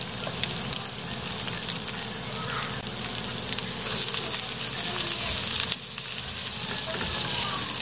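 Garlic and onion frying in a pan for a Filipino ginataan dish, giving a dense, steady crackling sizzle close by with occasional faint stirring scrapes, no talking.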